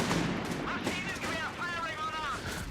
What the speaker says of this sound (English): Mortar doing some nice damage there.